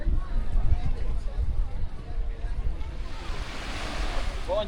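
Ocean waves wash onto a beach in Búzios, Brazil, with a steady surf roar and gusts of wind buffeting the microphone, while people nearby talk faintly.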